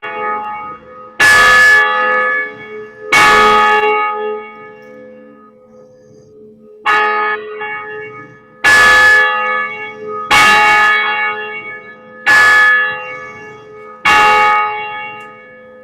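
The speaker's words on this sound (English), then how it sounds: "Turn over to Jen in our bell tower to ring us into worship this morning." Church bell in a bell tower rung to call people into a worship service, sounding in six separate loud, resonant strokes roughly every two seconds, each ringing on and decaying, with no voices present.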